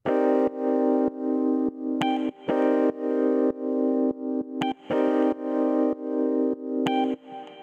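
A Rhodes electric piano patch plays chords with high notes falling on alternating offbeats. The stabs come in a choppy, syncopated rhythm, close and clean with brief gaps between them, and no voices.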